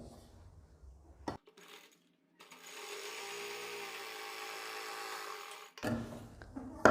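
A sewing machine runs a straight line of stitching for half-inch pintucks on a plain kurti, one steady quiet whirring run of about three seconds between soft handling clicks and rustles.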